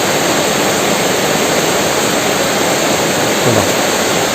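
Steady, loud rush of the Canoli Canal river flowing fills the whole stretch, a dense broadband wash with no pauses and no voices.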